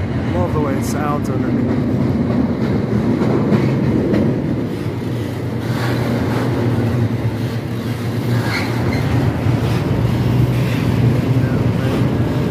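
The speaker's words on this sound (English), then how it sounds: "Another train came out" A train rumbles steadily nearby, heard from under a railroad bridge, with a continuous low roar and rattling, wind buffeting the microphone throughout.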